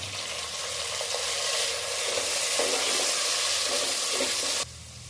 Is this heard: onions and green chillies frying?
yes